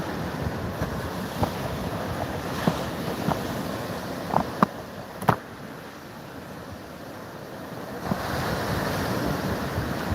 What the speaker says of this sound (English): I came down on the beach last night to do a bit of static video for waves